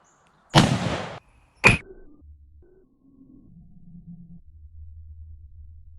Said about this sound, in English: we're going to try to shoot across the chronograph into that ballistic material